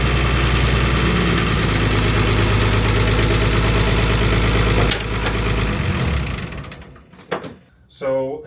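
A sailboat's engine idles with a loud, steady rumble, then fades and cuts out toward the end, leaving some brief clunks.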